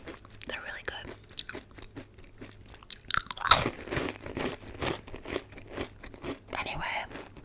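Close, crisp crunching of super crunchy sweet cinnamon puff cereal being bitten and chewed, a dense run of small crackling bites with one louder crunch midway, soft mouth sounds between.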